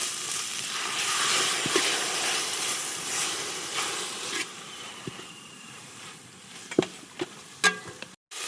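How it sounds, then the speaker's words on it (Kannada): Soy sauce sizzles and hisses steadily in a hot pan of frying chicken gizzards, a dense continuous crackle with a few sharper spatters and scrapes near the end. "ಸೋಯಾಬೀನ್ ಸಾಸ್ ಚೆನ್ನಾಗಿ ಫ್ರೈ ಆಗಿದೆ."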